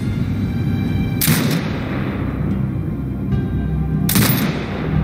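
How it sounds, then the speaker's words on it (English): Two heavy turret shots in the video game Sniper Ghost Warrior Contracts 2, each a sharp booming blast with a short rumbling tail, several seconds apart over a steady low ambient drone. "Exit binocular mode and command the turret to fire."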